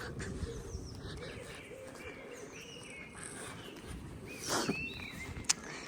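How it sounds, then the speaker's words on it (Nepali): Quiet morning outdoor ambience near York, England, with scattered bird calls and chirps at a distance, including a soft cooing, over a low steady background hum. "चराचुरुङ्गीहरू कस्तो कराएको छ मर्निङमा पनि"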